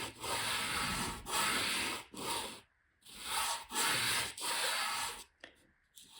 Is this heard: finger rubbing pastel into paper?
yes